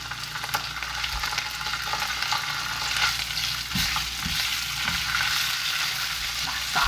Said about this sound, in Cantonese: 就落1湯匙嘅蒜蓉，爆一爆香佢